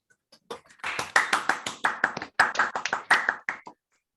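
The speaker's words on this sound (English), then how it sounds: "Let's applaud for the speaker." Applause for a speaker at an online mathematics talk, a short burst of individual sharp hand claps, irregular and close, on an otherwise quiet line.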